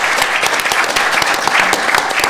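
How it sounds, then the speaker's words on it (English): An audience at a transit and transportation election forum applauds its panelists, dense continuous clapping from a room full of people, loud and close, with no talk over it. "Give them a round of applause for their comments."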